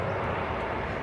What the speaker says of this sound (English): Embraer E195